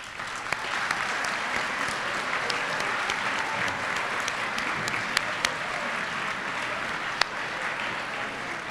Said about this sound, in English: Could they stand so we could give them a round of applause?